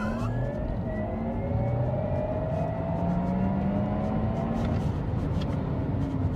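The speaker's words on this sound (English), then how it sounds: "on Sports Plus mode, it's got a real nice different pitch which adjusts to how fast you go" A Porsche Taycan Turbo electric car accelerates in Sports Plus mode, its synthetic drive tone rising steadily in pitch over loud road and wind roar, heard from inside the car with no talking.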